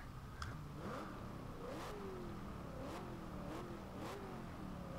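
A 2012 Chevrolet Camaro engine in the video game Forza Horizon 2 revs repeatedly, exhaust pitch climbing and dropping through gear changes, heard faintly with a few sharp bursts and no talking.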